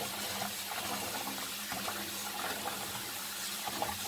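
Cold tap water runs steadily from a faucet for washing rice for chicken biryani, a continuous close gushing stream with no talk over it.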